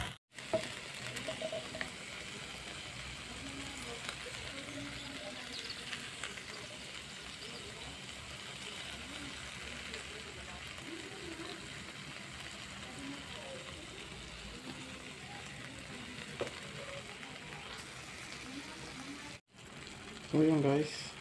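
String beans stir-fried with soy sauce sizzle steadily in a pan, a constant soft frying hiss with occasional stirring scrapes, while a person talks over it.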